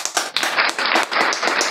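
An audience claps in a short dense burst of applause, loud and close, with many hands overlapping.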